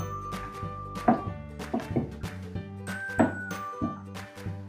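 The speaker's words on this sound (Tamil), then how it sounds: "ஒருக்கா மிக்ஸ் பண்ணி கொள்ளுவோம்." Spoon stirring vegetable soup with salt in a pot, repeated clinking and scraping knocks against the metal at an irregular rhythm, close and fairly quiet.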